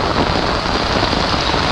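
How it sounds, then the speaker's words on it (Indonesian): Heavy rain pours down steadily at Johor Port on a sea fishing trip, a dense, continuous, loud hiss with no talk. "hujan lebat geng, hujan lebat"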